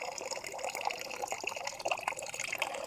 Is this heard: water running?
yes